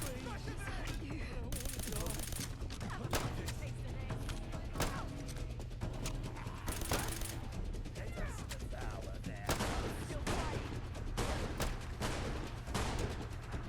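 A Chinese submachine gun fires in Fallout London, a video game, as repeated bursts of sharp gunshots with thuds and clatter between them. The shots are loud and irregular, and combat noise fills the gaps.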